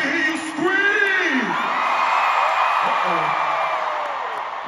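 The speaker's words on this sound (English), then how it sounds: "if you came to party, let me hear you scream!" A large concert crowd at Jingle Ball Detroit whoops and screams together, loud and sustained throughout, with a few voices yelling above the roar.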